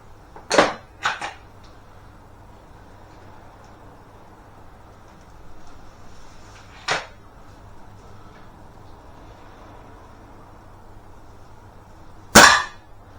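A Webley air rifle firing super dome pellets gives a few sharp, short pops, two close together at the start, then single shots spaced several seconds apart against a quiet background.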